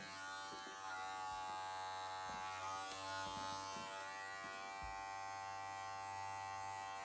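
Electric hair clippers used for a men's crew cut give a steady close mechanical buzz with a strong hum, changing slightly in pitch as they move through hair, with no talking.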